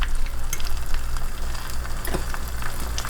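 Three eggs fry in a pan with a steady dense sizzle and crackle, close and fairly loud, punctuated by small pops and occasional scraping of a utensil.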